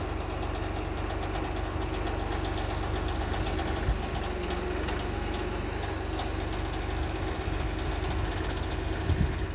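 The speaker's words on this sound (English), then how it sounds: "You guys hear all that annoying noises? That's probably because I need to lubricate my loader a little bit." A Kioti DK6010SE HST cab tractor with loader, Titan forks and a skid steer adapter plate, running and in need of lubrication, giving a steady close engine drone with faint rattling and an occasional creak.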